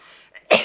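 A single sharp sneeze follows a brief breathy intake, loud and close.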